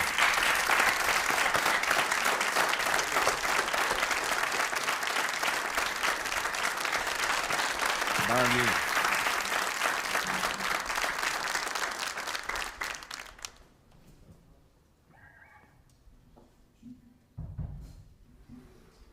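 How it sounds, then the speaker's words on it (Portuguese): A studio audience on a music show claps loudly and steadily for a singer for about thirteen seconds, then the applause dies out into near silence with faint sounds. "E eu peço um aplauso para alguém que a vai cantar agora."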